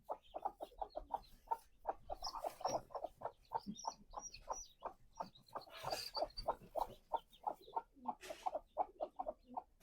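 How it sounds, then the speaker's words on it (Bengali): Hens with newly hatched chicks cluck steadily in quick, repeated bursts, close by, with a few higher chirps mixed in; no talking. "আমাদের অনেকগুলো গলা ছিল মুরগির বাচ্চা হয়েছে এখানে"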